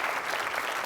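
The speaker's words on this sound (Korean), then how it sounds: "여기서 박수가 나와야 됩니다." An audience at a lecture on running a martial arts gym claps steadily throughout this brief moment, a dense even wash of hands without pauses.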